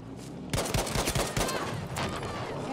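Rapid gunfire in the Battlefield V shooter game, a dense burst of sharp shots crackling in quick succession after a brief quieter moment, loud and close with no talking over it.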